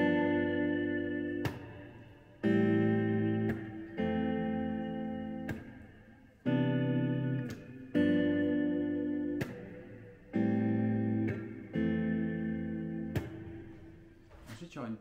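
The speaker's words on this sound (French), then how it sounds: "Donc avec la reverb ça fait sympa." Electric guitar chords struck one after another in a slow, steady pattern, each ringing out with reverb before the next strum.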